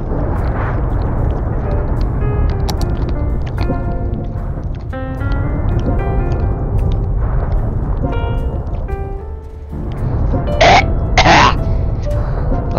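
A person, near and loud, coughs and clears their throat repeatedly after choking on a cough drop, with harsh bursts over steady background game noise from Cities: Skylines.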